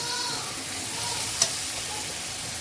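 Spices with black cumin and slit green chillies frying for a fish curry in oil left from frying eggplant, a steady close sizzle with one brief sharp clink from the utensil.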